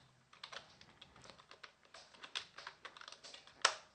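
Typing code on a computer keyboard, a quiet, close run of irregular clicking keystrokes with one sharper key strike near the end.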